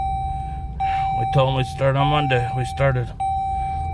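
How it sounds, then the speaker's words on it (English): Car seatbelt warning chime sounding as a steady, sustained electronic tone that runs through most of the clip, cutting off briefly at the end, while someone talks over it inside the vehicle. "sorry about the beeping. That's the seatbelt."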